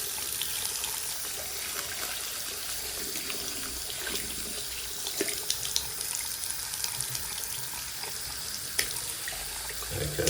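A bathroom sink tap runs steadily with hot water from a boiler, a continuous close hiss and splash filling the room for the whole stretch, with a few small knocks and clinks along the way.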